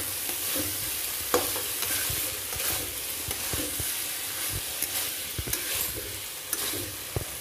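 Matar paneer made with frozen peas, starting to catch on the bottom of the pan, stirred as it fries dry: a steady close sizzle with repeated scraping spoon clacks against the pan, no talking.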